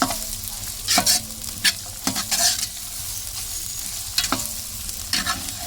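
Ginger sizzles and fries in a hot pan while being stirred, with repeated scraping strokes of a utensil over a constant crackling sizzle and no talking.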